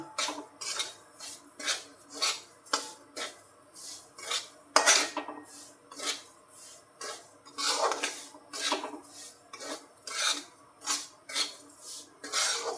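Semolina roasting in a pan while a spoon stirs it, scraping in a steady rhythm of about a dozen metallic scrapes and clinks, moderately close and alone.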